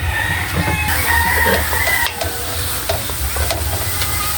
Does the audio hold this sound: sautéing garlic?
yes